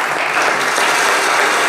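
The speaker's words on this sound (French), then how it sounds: "on peut l'applaudir très très fort." A crowd claps loudly and continuously, a dense burst of applause with no pauses.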